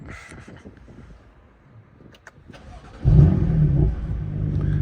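A BMW M3 engine catches and settles into a loud, deep, steady idle after a few seconds of quiet handling noises.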